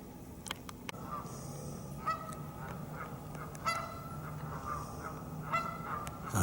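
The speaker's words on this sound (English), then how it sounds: "The sound of geese." Geese honk at a distance in scattered calls, short nasal blasts rising over a quiet outdoor background, some calls coming in quick pairs.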